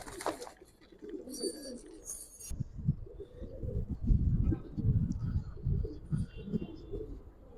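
A pair of Giribaz pigeons coo in low, throaty, rolling bursts. The cooing repeats steadily and close after a brief higher chirp, with faint background noise.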